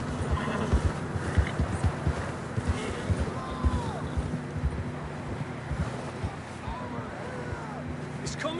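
Horses walk in Red Dead Redemption 2, with soft, steady hoof clops repeating close by under a low wind bed and occasional faint game sounds.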